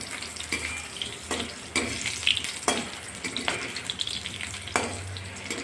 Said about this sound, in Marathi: आता आपली मिरची तळून झाली आहे